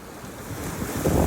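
Ocean waves breaking and spraying on a rocky Canary Island beach, a windy rushing surf that swells louder toward the end, heard close with wind buffeting the microphone and no talk.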